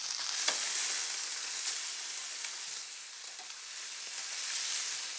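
Salmon searing in a hot pan gives a steady, bright sizzle with faint crackles and pops throughout, moderately close and even in level, with no voices.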